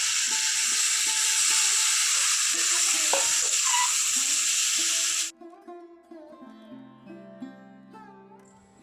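Chopped bottle gourd sizzles loudly in a pan of sautéed spice masala, a steady hiss that cuts off abruptly partway through, leaving faint clinks and quiet kitchen sounds.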